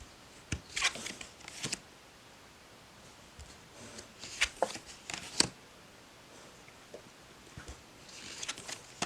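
An oracle card deck being shuffled by hand, soft papery riffles and slides in short bursts with quiet pauses between, close and fairly faint.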